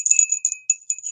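A small vintage figurine bell marked 1982 rings in repeated bright dings, each tone ringing briefly before the next strike, close and clear with no talking.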